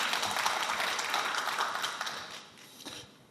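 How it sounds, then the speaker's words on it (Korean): An audience at a forum lecture applauds, a full round of clapping that tapers off toward the end with a few scattered claps. "이럴 때 박수 치는 거예요."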